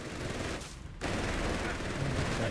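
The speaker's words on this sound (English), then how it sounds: "Here comes the machine guns. That's a heavy machine gun." Heavy machine gun in Company of Heroes 3 fires continuous rapid bursts, dense and loud, with a brief gap near the start before the sustained firing resumes; no voice is heard.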